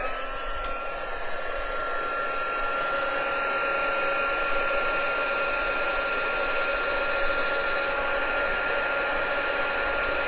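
A heat tool blows steadily to dry wet watercolour paper, a constant loud hiss and whine holding without break from start to end.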